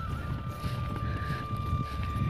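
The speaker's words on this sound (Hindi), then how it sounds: "ये हमारा ट्रैक्टर चल रहा है" A tractor engine runs on a farm, giving a steady low rumbling drone heard nearby, with no one speaking.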